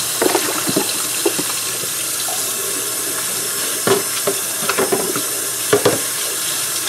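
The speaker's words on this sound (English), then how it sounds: "we're going to start just by rinsing these beans really good" Beans are rinsed under running tap water in a bowl, a continuous close splashing stream with intermittent knocks and handling clatters, no talk.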